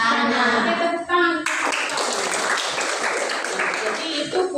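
A teacher speaks briefly, then a classroom of students claps hands together in a dense, lively burst that continues to the end.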